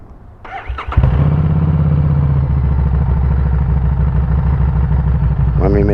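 A Harley-Davidson motorcycle engine cranks with a short whir, fires up loudly and settles into a steady, deep, close idle rumble that continues to the end.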